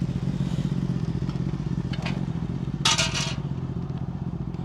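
A go-kart lapping a kart track in Elektrėnai, a continuous close buzzing small engine drone with brief scraping and rattling bursts partway through.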